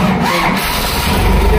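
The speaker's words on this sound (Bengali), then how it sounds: "ইঞ্জিনের আওয়াজটা শুনি।" A second-hand tractor engine cranks and starts at a showroom, a brief loud low rumble building toward the end with no talk over it.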